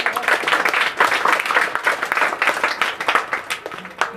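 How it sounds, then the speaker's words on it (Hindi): A roomful of schoolchildren applauding at a Teachers' Day gathering in an education centre, with dense, steady clapping that carries on for several seconds without a break. "तो कलाम साहब के लिए एक बार और तालियां।"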